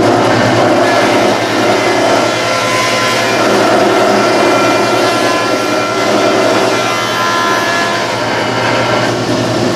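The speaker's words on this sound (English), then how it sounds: "We are going to planer these down to rough level." A wood planer runs boards down to rough level, giving off a loud, continuous broadband roar that holds steady throughout, with a low mechanical hum beneath.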